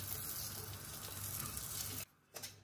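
Dry wheat dalia roasting in a home kitchen pan, a steady close crackling sizzle with faint stirring scrapes that cuts off abruptly near the end, leaving brief quiet before a short rustle.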